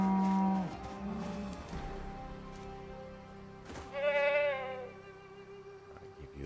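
Sheep, both ewes and a ram, bleat in the survival game Project Zomboid, with several drawn-out harmonic calls rising over a steady game backdrop and one louder, wavering bleat near the end.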